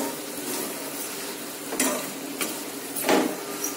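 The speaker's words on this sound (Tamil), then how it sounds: "ஒரு கரண்டி வச்சு இந்த மாதிரி கிண்டி விட்டுக்கலாங்க" Spoon stirring butterscotch syrup through popcorn in a hot kadai, a steady scraping and rustling with soft sizzling underneath, swelling in a few louder strokes.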